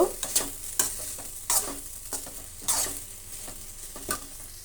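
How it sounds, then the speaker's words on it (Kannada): Chopped tomato frying in a pan while being stirred: a soft background sizzle broken by repeated sharp spatula scrapes and clinks against the pan, several in an irregular rhythm, close and moderately loud, with no talk. "ಒಂದು ಸಣ್ಣ ಟೊಮೆಟೊನ ಸೇರಿಸ್ತಾ ಇದ್ದೀನಿ ಇದು ಕೂಡ ಫ್ರೈ ಆಗಲಿ"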